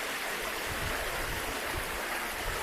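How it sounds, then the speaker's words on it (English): A river flows steadily outdoors in a natural setting, making a soft, continuous rushing wash with no voices. "I'm just gonna relax and listen to the river and all the birds singing their songs here."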